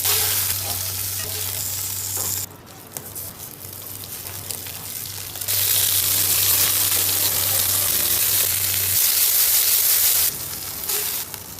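Beef sizzles and crackles as it fries golden brown in hot oil in a pan, the steady hiss pausing and resuming between loud, close stretches.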